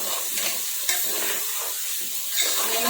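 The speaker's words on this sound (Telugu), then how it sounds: "ఒకసారి అయితే కలుపుకుందాం" A pot of curry with pieces of meat being stirred on the stove, a steady close sizzle with soft scraping movements throughout and no talking.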